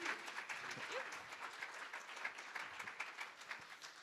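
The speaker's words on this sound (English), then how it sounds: "Let's give Erin a round of applause first." Very faint applause for a presenter at a conference paper session, a thin, uneven patter of clapping from a small audience with a few scattered voices.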